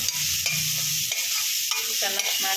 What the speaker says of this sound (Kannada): ಈಗ ಟೊಮೆಟೊ ಇದ್ದೀನಿ ಚೆನ್ನಾಗಿ ಫ್ರೈ ಮಾಡ್ಕೊಳ್ಳೋಣ